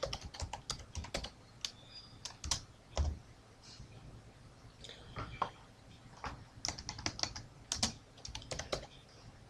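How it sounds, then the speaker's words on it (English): Fingers type on a computer keyboard with quiet, irregular clicks and taps in short bursts, heard close and alone without any talk. "So let's type something."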